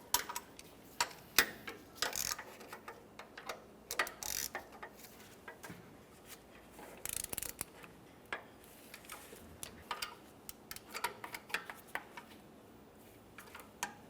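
Wrench ratcheting as a power steering pressure line fitting is tightened at the pump on a 2004-2008 Ford F-150, with a series of faint, irregular metallic clicks and taps spread across a quiet background.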